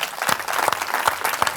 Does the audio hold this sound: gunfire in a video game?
no